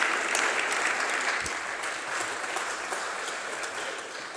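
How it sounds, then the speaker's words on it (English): Steady applause from a conference audience as a university committee chair joins the host on stage at a talk on a joint European degree, a dense continuous clatter of many hands that tapers slightly toward the end. "You can applaud her."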